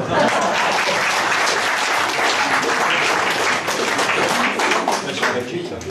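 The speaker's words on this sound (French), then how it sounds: "Là aussi, on applaudit à ce moment-là." An audience gives a dense, steady round of applause, many hands clapping loudly and evenly for the full length before easing slightly at the very end.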